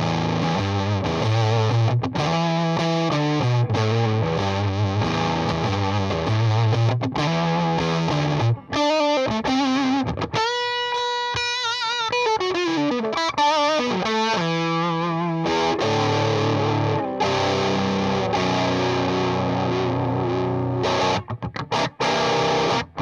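Electric guitar played through an MXR Authentic Hendrix fuzz pedal with the fuzz set near three o'clock, giving a loud, sustained, harsh distorted tone with chords and bending single notes that ring continuously.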